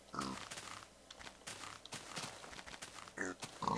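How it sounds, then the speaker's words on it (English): Small baby pig in the Minecraft video game giving soft little oinks, a few faint grunts scattered over a quiet game background with no talking. "He has a little tiny oink sound."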